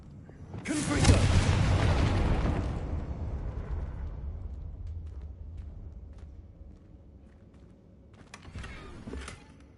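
A single loud fiery blast from the Confringo spell in Hogwarts Legacy, striking hard and rumbling away over several seconds, followed by a quieter burst near the end.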